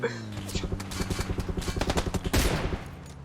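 Gunfire in PUBG Lite: a rapid, even burst of shots rattles off, followed by a louder blast, with voices murmuring underneath.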